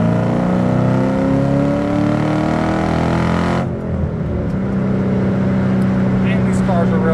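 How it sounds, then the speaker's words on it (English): A supercharged 2005 Ford Saleen with a 4.6 V8 accelerates hard in third gear, heard from inside the cabin as a loud, rising engine drone that briefly dips at a shift and then pulls on. "we'll go ahead and do a little third gear pull here"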